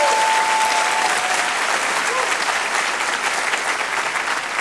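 A church congregation applauding its worship team, dense steady clapping from a large crowd that fills the whole stretch at full loudness.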